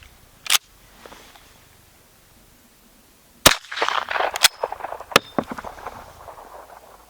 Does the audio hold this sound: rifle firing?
yes